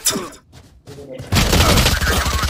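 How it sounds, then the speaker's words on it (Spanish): Rapid gunfire from the tactical shooter Valorant erupts loud and dense after a quieter stretch, firing continuously in bursts to the end with a voice sounding over it. "¡La estoy disparando."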